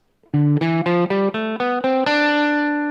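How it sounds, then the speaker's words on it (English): An overdriven electric guitar climbs one octave of the D Dorian mode in eight steady, separate notes, then lets the final high note sustain. Instrument alone, no talking. "Now this highlighted section is 1 octave of D Dorian, the Dorian mode."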